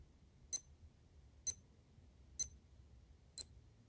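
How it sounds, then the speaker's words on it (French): A Casio G-Shock DW-5600E-1V digital watch chirps four times as it cycles through modes: short, high, evenly spaced beeps about a second apart, close and clear over a faint low background hum. "le dernier bip qu'on entend, c'est une indication sonore pour vous indiquer comme quoi que vous êtes revenu à l'heure standard"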